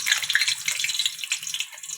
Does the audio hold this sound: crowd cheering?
no